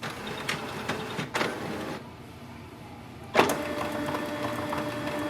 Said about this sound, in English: Your printer will take few seconds to start.